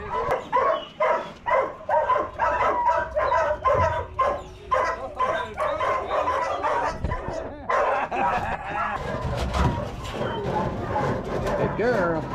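Greyhounds in Florida barking and yipping in a rapid string of sharp, repeated yelps, then more scattered whining and barks, close and loud, with people talking over and among the dogs.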